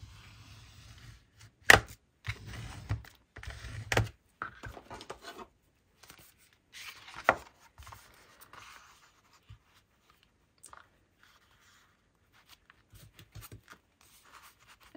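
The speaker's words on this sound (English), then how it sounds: "fold it in half and then I can start deciding what size I want the cover to be. So again, I'm going to use that bone folding tool." Paper is folded in half and creased with a bone folding tool, giving sparse, close scraping and rustling strokes separated by quiet gaps.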